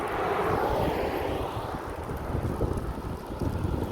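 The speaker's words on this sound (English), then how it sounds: "it is like super windy, so something's bound to blow our way" Strong wind roars and buffets the microphone on Main Street in Camp Verde, Arizona, in a continuous rumbling gust, loud and close, with no voices.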